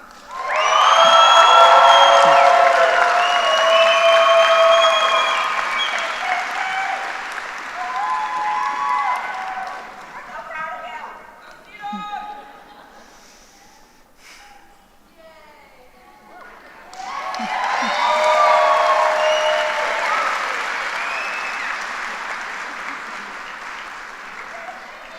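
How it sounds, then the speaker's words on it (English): A crowd at a veterinary medicine graduation ceremony breaks into loud applause with cheering and whoops, fading to scattered clapping and voices in the middle before swelling again into a second strong burst of applause. "As I call each graduate to the stage, feel free to applaud, scream"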